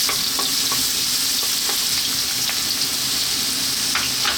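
Garlic and ginger fry in hot organic soya oil in a wok, giving a loud, dense, unbroken sizzle with light clicks of a utensil scattered through it and no speech.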